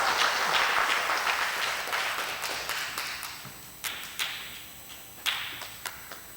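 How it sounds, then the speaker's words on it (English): Church congregation applauding, a dense wash of clapping that thins and fades over several seconds into a few scattered, distinct claps at the end. "Give them a round of applause."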